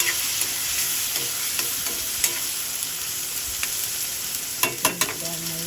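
Pork sizzling and frying in a pan, a steady dense crackle with occasional stirring clinks, close and fairly loud, with no talking.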